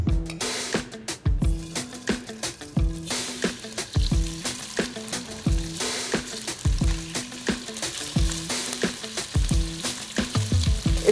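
Black pepper beef stir-fry sizzling loudly in a hot pan, a dense continuous crackle punctuated by frequent rhythmic clanks and scrapes of tossing and stirring, close and prominent.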